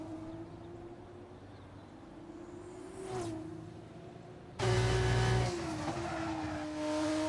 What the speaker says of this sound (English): Listen to the noise of the engines of these wee honeys.